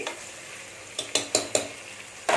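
Tomato and onion sautéing in a pan for Dindigul Thalappakatti style mutton biryani, a low sizzle broken by four quick ladle scrapes in a row, then another stir, close and clear with no speech.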